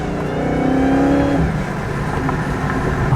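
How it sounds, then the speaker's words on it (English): A Dodge Hellcat's supercharged engine revs loud and close, a deep rising roar with a high supercharger whine climbing through it before the revs drop away, without any talking. "y'all actually probably heard that supercharger too, which is insane."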